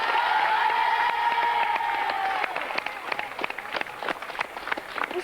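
A crowd applauds, the clapping thinning into scattered claps after a held tone fades out.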